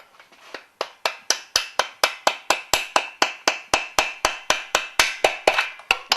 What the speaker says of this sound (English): just with a brass drift, just tap that over the top if it's slightly tight.